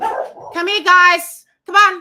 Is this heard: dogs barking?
yes